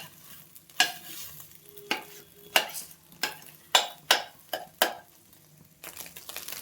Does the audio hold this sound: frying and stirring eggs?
yes